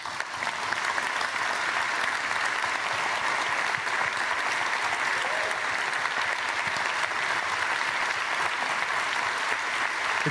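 Dense, steady applause from a large audience fills the hall at an award ceremony, holding at an even level for about ten seconds without pause or spoken words.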